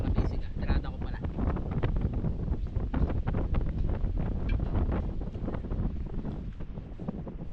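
Strong wind buffets a microphone on a boat, a loud continuous roaring rumble with gusty fluctuations that persists throughout, with a voice heard faintly beneath it.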